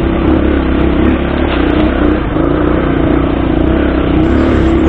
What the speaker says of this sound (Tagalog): so hindi namalya yung motor, hindi pumiyok, tuloy-tuloy ang pag-akyat sa bundok